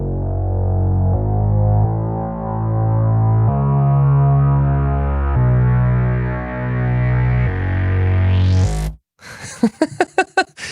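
Thick, growling synth bass notes that shift pitch in long sustained steps, followed by a short burst of choppy, rhythmic distorted stabs.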